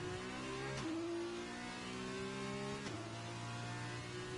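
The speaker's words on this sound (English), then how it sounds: "So, Timbed doing a wet tyre run." An F2 race car in a racing video game runs on wet tyres through a Singapore circuit, its engine droning steadily and climbing in pitch, with two quick gear changes breaking the whine.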